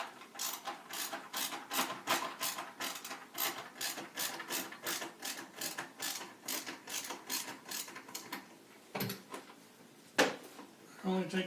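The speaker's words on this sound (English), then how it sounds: "I could take it off and sand off in here a little bit more" Rapid rhythmic rasping strokes of hand sanding on an AM 4.0 stunt helmet part, close and fairly quiet, repeating steadily before a few scattered knocks.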